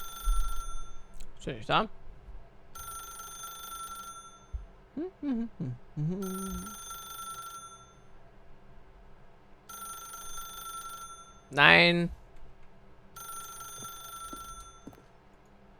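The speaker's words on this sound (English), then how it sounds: "As Stanley picked up the phone" A telephone in The Stanley Parable rings in repeated mechanical bursts about two seconds apart, each separated by a pause, while someone speaks briefly and reacts loudly between the rings.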